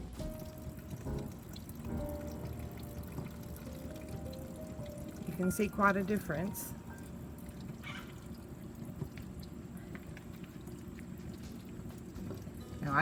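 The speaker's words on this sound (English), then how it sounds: "All right, let's get some water on it." Water poured onto a finished hypertufa pot, a soft continuous splashing and trickling heard under a man's speech.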